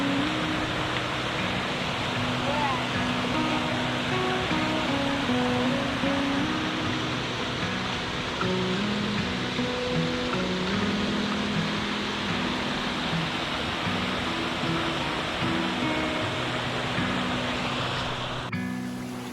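Water drips and trickles at the Place of a Thousand Drips along the Roaring Fork Motor Nature Trail near Gatlinburg, a steady dense wash of falling water heard close and loud throughout, with no talking.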